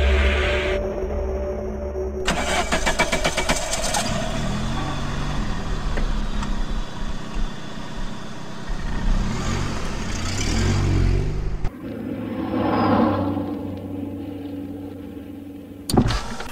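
A car engine runs and drives in a radio drama sound effect, starting with a mechanical whir and climbing to a loud, sustained engine drone. It cuts off abruptly, then comes back at a lower level with a brief thump at the end.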